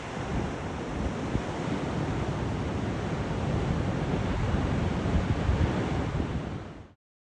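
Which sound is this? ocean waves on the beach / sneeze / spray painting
ocean waves on the beach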